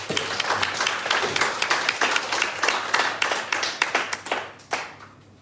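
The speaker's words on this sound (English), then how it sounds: "Applause" Clapping from a small audience at a startup pitch networking event in a coworking space, a dense run of hand claps that thins into scattered individual claps before fading out.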